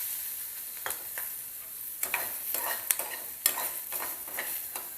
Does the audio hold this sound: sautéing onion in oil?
yes